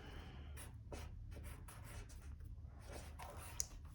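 A pencil writes letters on paper in a quiet room, faint short scratchy strokes coming in small bursts with pauses, close to the microphone and with no talking.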